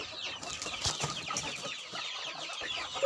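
Parent hens on a small home farm cluck busily as they are given layer feed in the afternoon, a steady overlapping chorus of close clucks and calls with no talking.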